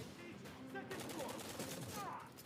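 Dense rapid gunfire in a video game trailer, bursts of shots crowding together over a continuous loud din, with a voice calling out briefly amid the firing.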